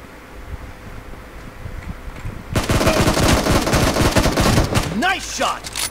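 Rapid automatic gunfire from a PUBG match erupts after a quiet stretch, loud dense bursts of shots continuing to the end, with a brief voice heard under the shooting.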